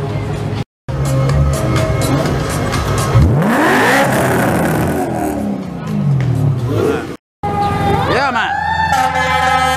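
Car engine revving hard on a crowded Montreal street during Grand Prix weekend, loud rising and falling rev sweeps amid street noise and a crowd, with brief dropouts.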